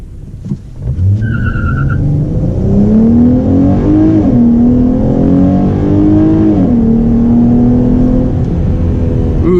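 A 2017 Dodge Challenger fitted with an aFe Momentum GT cold air intake launches hard with a brief tire chirp, its engine revving up loudly and steadily through a gear change, close and alone.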